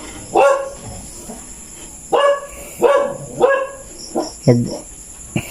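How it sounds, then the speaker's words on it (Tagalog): Several dogs bark in repeated bursts, loud and close, with short pauses between volleys and insects chirping faintly behind. "Ganyan talaga yung mga aso pag may napansin sila kakaiba."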